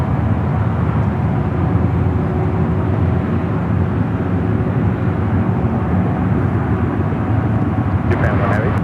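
Airliner jet engines at San Francisco airport, with a Japan Airlines heavy jet lining up for departure on runway 28 left: a loud, steady broadband roar holds for the whole stretch, close and continuous.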